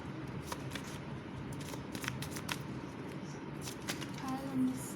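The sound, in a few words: shuffling tarot cards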